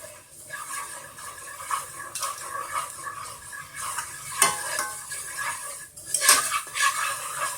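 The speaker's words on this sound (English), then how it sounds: "Stirring constantly." Flour is stirred in a pan for a roux, a steady scraping and clinking of a utensil against the pan with faint sizzling underneath and a few sharper metallic taps, close and continuous without speech.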